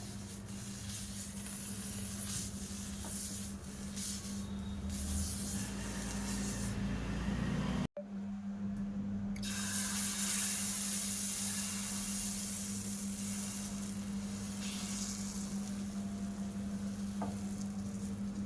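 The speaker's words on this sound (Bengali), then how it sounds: "এবার আমি একটু জলের ছিটা দিয়ে দেবো" Water sprinkled onto a hot, oil-brushed griddle for potato dosa bursts into a loud, continuous sizzle and hiss, briefly cut off midway before the spitting resumes, close and alone without talk.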